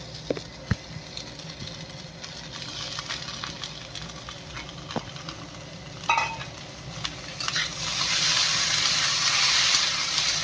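Crumbled homemade paneer tipped into a hot pan and stirred, giving a soft steady sizzle with scattered clinks and scrapes, and a louder frying hiss toward the end.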